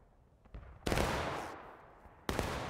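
Musket volleys in the War of Rights battle game: a few scattered distant pops, then a loud broadband volley crack with a long rolling tail, and a second sharp volley near the end.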